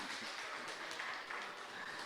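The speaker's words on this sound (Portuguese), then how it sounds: "Vamos aplaudir ao Senhor, meus amados" A church congregation applauds in a steady, even wash of clapping that stays quiet and continuous from start to finish, with no voices rising above it.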